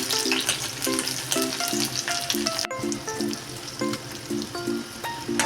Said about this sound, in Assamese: এতিয়া এখন কেৰাহী পাতি ল'লোঁ তাতে অলপমান মিঠাতেল দিলোঁ আৰু কাটি থোৱা পিঁয়াজখিনিও দি দিলোঁ